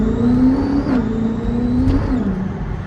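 A modified C8 Corvette accelerates hard down a street, its engine note climbing steadily through two quick gear changes, loud and close from inside the car with no talk.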